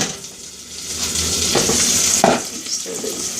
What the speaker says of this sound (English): so I can stir these potatoes one more time